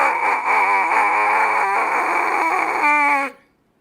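A trumpet played with the lips squeezed tight gives a strained, nasal, quacking tone like Donald Duck, held and wavering for about three seconds with brief breaks, close and loud, then cut off into silence.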